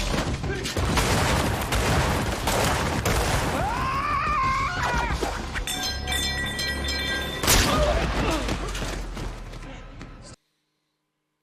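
Rapid volleys of gunfire and booming shots from a police drama playing on a TV, dense and loud with screams and dramatic music mixed in, before cutting to silence at the end.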